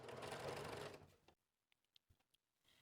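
A domestic sewing machine runs a quick, buzzing stitch line through fabric for about a second, then stops, followed by a few faint clicks and taps as the work is handled.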